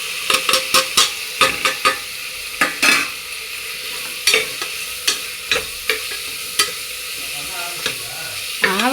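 Whole spices fry in hot oil in a pot for vegetable biryani, a loud steady sizzle broken by repeated sharp clanks of a ladle stirring against the metal.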